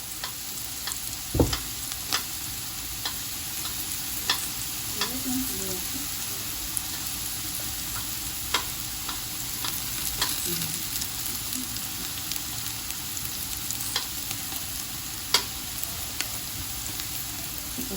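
Ginger and garlic frying in a pan, a continuous close sizzle and crackle with scattered spatula clicks and stirring sounds throughout.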